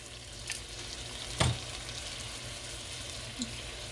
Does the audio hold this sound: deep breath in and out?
no